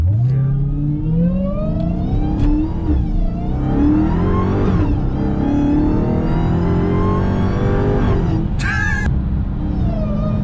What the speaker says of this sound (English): just so you guys can see like how it sounds from pretty much inside the car with the windows completely up, just from the cabin